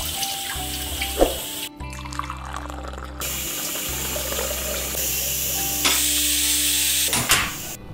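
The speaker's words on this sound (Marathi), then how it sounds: "मी जो चॉपर यूज केलेला ना, मी त्याला छान वॉश करून घेतलं" Tap water runs into a sink while a kitchen chopper is washed underneath, a steady close stream broken by brief changes in flow and a few light knocks.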